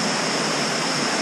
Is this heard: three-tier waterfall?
yes